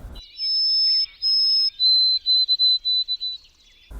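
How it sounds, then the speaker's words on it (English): A white-throated sparrow sings a clear, high whistled song outdoors. Long pure notes lead into a quicker run of short repeated phrases, heard close and alone against near silence. "when some people hear the white-throated sparrow"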